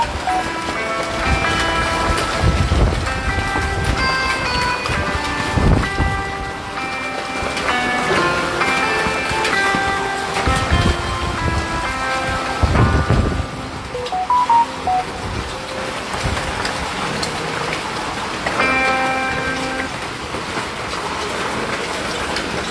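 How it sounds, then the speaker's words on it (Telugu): Heavy hailstorm with rain in Choppadandi, Karimnagar, a loud, dense and continuous clatter of hailstones and pouring rain that swells and eases throughout, with no voices. "చొప్పదంలో భారీ వడగండ్ల వాన, విపరీతమైనటువంటి వడగండ్లు చూస్తూ ఉన్నాం మనం లైవ్లో"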